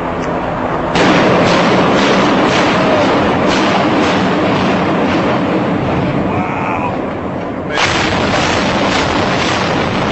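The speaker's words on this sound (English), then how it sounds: "Here is a classic controlled demolition." A long, loud, continuous roar of blasts and rumbling from a controlled building demolition, with a sharp fresh burst partway through, sounding like heavy explosions at a distance.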